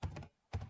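Typing on a computer keyboard in two quick bursts of close clicks separated by a brief pause.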